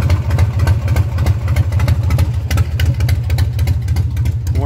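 A carbureted engine idles slightly high, a steady, even low-pitched chug that runs close and loud throughout with no talking.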